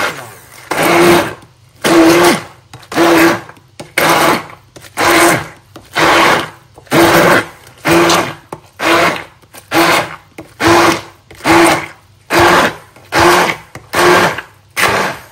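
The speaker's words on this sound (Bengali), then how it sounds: "এখানে আমি হচ্ছে পটলের খোসাটা ব্লেন্ড করে নিচ্ছি।" A kitchen blender grinds pointed gourd peels in about a dozen loud, evenly spaced pulses, each a few seconds of whirring broken by short pauses.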